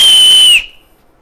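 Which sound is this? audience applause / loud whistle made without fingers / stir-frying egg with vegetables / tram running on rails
loud whistle made without fingers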